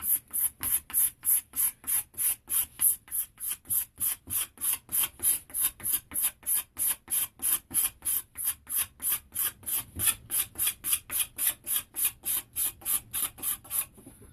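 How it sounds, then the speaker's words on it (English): A hand scraper works along the back of a wooden longbow in steady, rhythmic strokes, each a crisp rasping scrape, close and even for the whole stretch with no talk. "I'm going to use the scraper now on the back here and just get rid of some of these marks"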